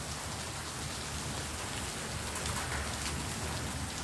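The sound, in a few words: rain and hail falling in Lebanon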